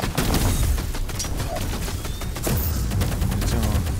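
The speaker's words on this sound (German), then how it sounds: "mehr Schuss, schnellere Schüsse" Rapid, dense gunfire from the VR video game VR Invaders rattles continuously for several seconds, loud bursts layered over one another with no pause.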